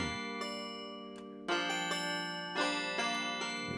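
A sustained bell tone with rich ringing overtones plays back from a multitrack MPC sequence, dropping out briefly and then returning, with fresh strikes landing on a steady beat.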